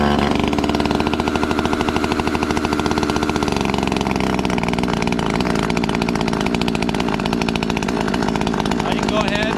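A Husqvarna T540 MKIII chainsaw idles on choke with a steady, loud two-stroke buzz and rapid firing pulses that shift in tone partway through, running continuously with no one talking.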